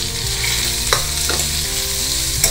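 Chopped onion, ginger and curry leaves sizzle in a hot pan, a close, bright hiss broken by a couple of quick stirring scrapes.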